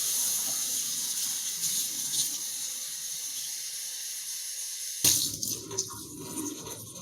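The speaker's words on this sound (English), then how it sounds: "Now I'm going to rinse it all out." Warm running water rinses deep conditioner from natural 4C hair, a steady close hiss of flowing water that shifts to sloshing splashes as the hair moves under the stream.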